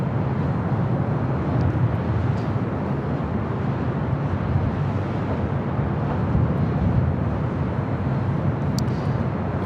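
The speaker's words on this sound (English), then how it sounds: "Southwest Airlines flight 4212, flight heading to San Antonio, Texas, 737 MAX 8." A Southwest Airlines Boeing 737 MAX 8 jet at LAX, bound for San Antonio, gives a steady, loud broadband engine roar that holds evenly throughout, with no voices present.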